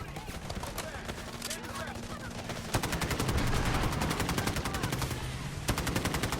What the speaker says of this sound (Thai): ใครยิงวะทุกคนสาดหมดเลยเมื่อกี้